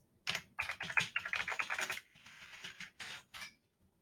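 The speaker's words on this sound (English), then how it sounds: "So if in doubt, I always just type the word." Quick bursts of clicking keys on a computer keyboard as a word is typed, close and fairly quiet, with a short pause between bursts and no talking.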